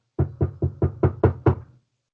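Seven even, firm knocks on a door ring out at a steady rhythm, close and distinct against silence, without any voices.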